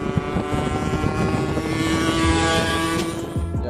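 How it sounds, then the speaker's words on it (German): Hercules Prima GT 80cc moped engine with an aftermarket exhaust, running steadily and loud up close, a continuous buzzing drone that rises slightly in pitch and holds for several seconds, with no talk. "den 80 Kubik hat man ordentlich Drehmoment für den kleinen Motor und durch den Auspuff auch über das ganze Drehzahlband"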